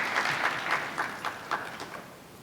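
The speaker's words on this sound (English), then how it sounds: "Give my commissioners a round of applause." Scattered, moderately faint clapping from an audience at a public discussion event, with a handful of separate claps that soften and trail off over a couple of seconds.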